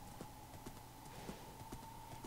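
Faint, even clip-clop of horse hooves at a steady walking pace in the Minecraft video game, heard alone against a low background hum.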